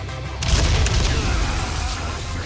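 Explosive arrows detonate in Resident Evil 4 Remake: a sudden loud broadband boom after a quiet instant, then a rumbling blast that lingers and slowly fades.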